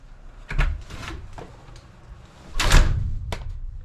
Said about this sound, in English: You can see when we close the door,